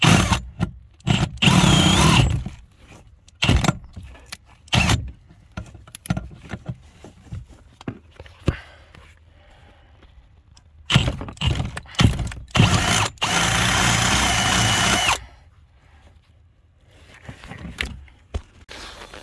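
Cordless power drill enlarging a hole in the body of a Ford car being fitted with a Cummins engine, several short bursts of close, loud whirring and grinding separated by pauses.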